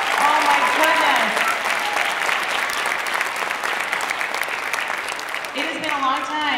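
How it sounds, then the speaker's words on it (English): Applause rolls through an elementary school audience for fifth graders after their live performance, a loud, sustained crowd clapping that continues while a voice speaks over it near the start and end. "Let's give it one more round of applause"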